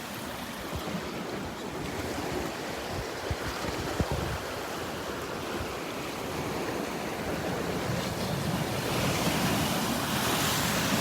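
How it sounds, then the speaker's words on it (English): Ocean waves splash continuously onto a beach in Naples, Florida, a loud broadband surf roar with wind buffeting the microphone and no voices. "Me and my shadow and my splashing waves."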